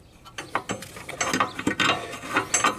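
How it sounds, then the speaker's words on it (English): Metal pulley on a Cub Cadet XT1 Enduro riding mower being pushed back by hand, giving a series of close ratcheting, clicking mechanical knocks and scrapes over a couple of seconds. "push on this pulley right here, and that'll move it back to where you have some space"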